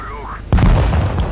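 A tank's main gun fires in a tank battle video game, a single sharp booming blast that sets off abruptly and then rumbles loudly for a moment, with no talk over it.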